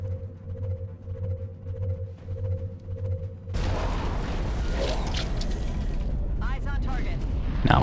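A rocket fired in the XCOM Enemy Within video game: a low steady hum breaks abruptly into a loud, sustained roaring blast that fills the rest of the moment, with crackling bursts near the end.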